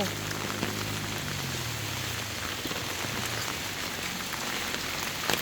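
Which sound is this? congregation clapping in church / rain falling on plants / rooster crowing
rain falling on plants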